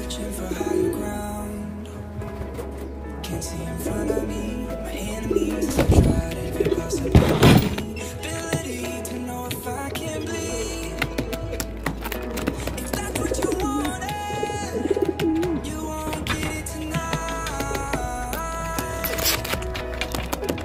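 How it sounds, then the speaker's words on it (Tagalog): Pigeons coo in a loft, soft repeated low coos that rise and fall across the whole stretch, with occasional louder bursts of fluttering or handling noise and a steady background hum. "Ayun yung mga ibon natin oh."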